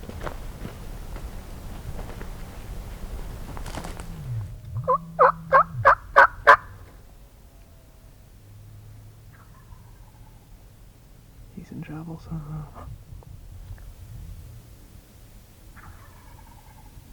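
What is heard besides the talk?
wild turkey gobbling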